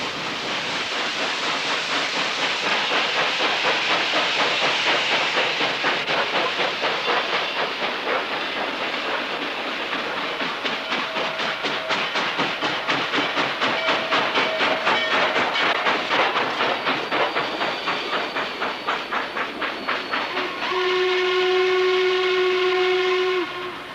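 Norfolk and Western Class A No. 1218 steam locomotive running with a fast rhythmic chuffing and rail clatter, and a loud, sustained multi-tone steam whistle near the end, with no voices.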